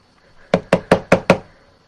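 Five sharp knocks in quick, even succession, close and loud, made while working a glue dispenser during papercraft card making; no voices.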